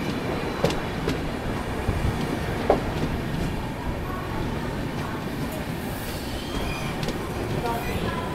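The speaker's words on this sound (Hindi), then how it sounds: "गोरखपुर कोची वाली आरती सागर एक्सप्रेस।" The Gorakhpur–Kochi Aaradhana Sagar Express passes close by with a steady, loud rumble of wheels on rails and occasional clacks over joints, continuing throughout.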